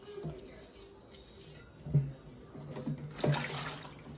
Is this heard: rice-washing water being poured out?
yes